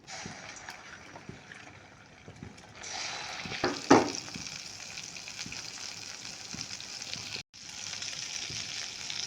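Green peas dropped into a hot pan with asafoetida start a steady sizzle that swells after a few seconds, with a sharp splash-like burst and a brief cutout near the end.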